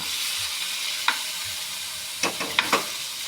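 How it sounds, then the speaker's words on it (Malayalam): Quail eggs frying with wilted onions in a pan give a steady, moderate sizzle, broken by a few sharp clinks and scrapes of stirring near the end, with no voices. "നമ്മളെ കാട ഉള്ളി എന്തോ കാരണം വാടി വന്നിട്ടുണ്ട് നമ്മളെ കാടമുട്ട ഇട്ട് കൊടുക്കാം"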